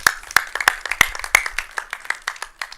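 A small audience at a tech talk claps for a volunteer coming up on stage, sharp separate claps thinning into scattered, uneven applause that fades over a few seconds.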